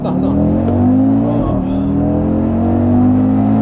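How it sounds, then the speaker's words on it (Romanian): Audi car engine and exhaust humming and revving from inside the cabin, a loud steady drone that briefly dips and rises again mid-way, with the engine note holding strong and even throughout. "E o combinație de motor cu tobe și cu puțină sinteză în boxe"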